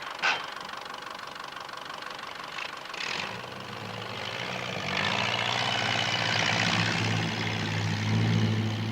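A Ferguson TE20 tractor engine starts up and runs, a faint idle giving way to a louder, steady mechanical drone with a slight knocking character, growing nearer over several seconds without speech.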